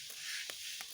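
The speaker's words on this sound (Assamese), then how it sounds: "পুৰা জুই লগাই এইফালে কেৰাহী পাতি শাল পাতি এয়া ভাজি আছে" Soaked bora paddy being fried in a wok over an open wood fire, giving a steady close hiss of frying with a couple of brief stirring scrapes and no talk.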